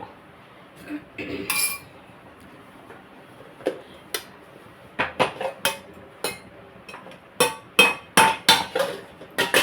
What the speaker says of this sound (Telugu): ముందు వెల్లుల్లిపాయలు కొట్టి వేసుకున్నాను